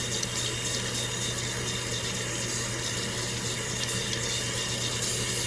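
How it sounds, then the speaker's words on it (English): Tap water runs steadily into a sink while a makeup brush is rinsed under it, a loud, continuous, close hiss with no pauses. "Rub it under a little bit of water."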